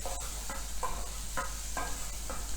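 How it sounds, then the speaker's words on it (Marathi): Capsicum and green peas are sautéed in ghee in a pan, a steady soft sizzle broken by about six rhythmic scraping stirs of a spoon. "शिमला मिरची त्याचबरोबर मटारचे दाणे हे नुसते सॉते करून घ्यायचे"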